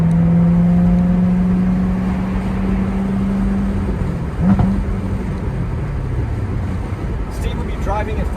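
A Corvette C7 Z06 engine holds a steady drone inside the car, then gives a brief rev, with people talking over the engine and road noise.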